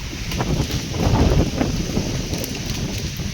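Strong gusting wind roars steadily as rain begins to fall around mango trees, a close, continuous rushing with no talk.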